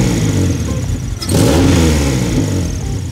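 A Honda Civic hatchback with an exhaust leak idles and then revs, a loud rough engine drone that surges in pitch midway, with a raspy, puffing exhaust edge, no speech.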